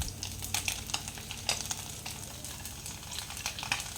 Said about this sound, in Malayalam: ഈ ബാക്കിയും കൂടെ നമുക്ക് ഫ്രൈ ചെയ്തെടുക്കാം.